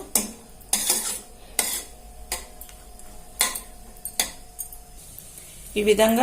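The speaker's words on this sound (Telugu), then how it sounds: "జీడిపప్పులు వేయించుకుంటాను ఇప్పుడు వేడెక్కింది కొద్దిగా నెయ్యి వేసుకుంటున్నాను" Cashews frying in ghee in a pan, stirred with a metal spoon that scrapes and clinks against the pan in a slow, regular rhythm under a soft sizzle, while someone speaks briefly.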